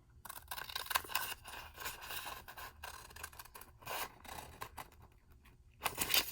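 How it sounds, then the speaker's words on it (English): Scissors cutting card paper for a handmade pop-up card, a close, steady run of crisp snips and scraping rustles lasting several seconds, with a brief louder cut near the end. "I'm going to take my scissors and I'm going to cut on that line"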